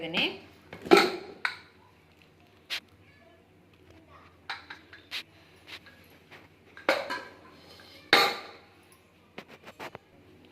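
A pressure cooker holding cooked tomatoes for sauce is handled and opened, with several sharp metallic clanks and knocks of the lid and pot. They come in bursts between quiet gaps, and faint voices can be heard in the background.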